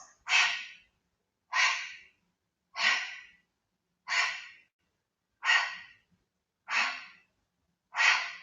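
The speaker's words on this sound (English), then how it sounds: "Deep breathing, team." Deep, forceful exhales during a Pilates leg-crossing exercise, seven evenly spaced breaths about every second and a quarter, close and clear with no talking.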